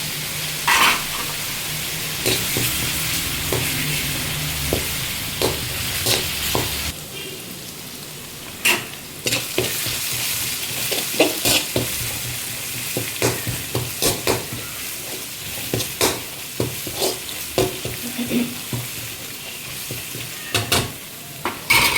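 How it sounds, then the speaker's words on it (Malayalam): Curry leaves sizzle and crackle in hot oil while a spoon scrapes and stirs the pan in repeated clicks. "കരിയാപ്പല കൂടി അതിലോട്ട് ഇട്ട് കൊടുക്കാം."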